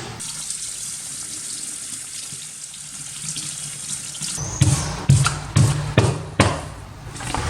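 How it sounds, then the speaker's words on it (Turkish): Tap water runs steadily into a sink as a paint roller is held under it before painting a wall, then several sharp knocking hits follow, close and clear with no talk. "Şimdi rulomuzu ilk uygulamadan önce suya tutuyoruz."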